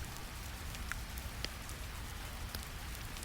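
Steady rain falls on rocky ground and stone grooves, a constant dense patter with a few sharper drops, evenly loud with no voices.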